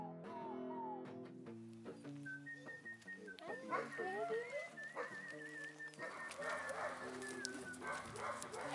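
Several friendly, wet dogs bark, whimper and yelp close by at a dog owner's property, with someone talking to them and birds calling faintly in the background.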